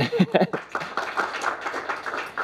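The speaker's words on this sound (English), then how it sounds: "round of applause for Matt" Audience applause in a workshop or seminar setting for a participant who answered a marketing question: a short burst of clapping up front that thins into scattered claps under continuing talk.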